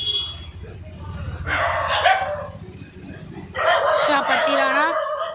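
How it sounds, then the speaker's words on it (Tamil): A dog barks in repeated bursts, fairly close, mixed with a rooster-like crowing call and someone talking throughout. "கொஞ்சம் நாய் தொல்லையாக இருக்குது, என்ன பண்ணுறது, கத்திக்கிட்டே இருக்குது."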